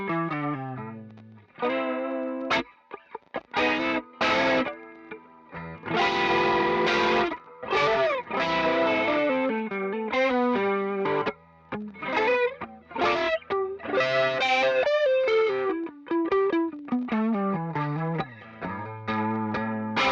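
Electric guitar played through the neck pickup with a chain of distortion and chorus effects, noodling through a long run of sustained, warbling notes and short phrases with brief gaps, close and full, no voices.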